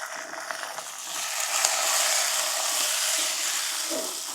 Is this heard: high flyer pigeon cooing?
no